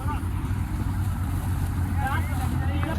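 A combine harvester stuck deep in a muddy farm field, its engine droning loud and steady as it labours without a break, with faint voices nearby.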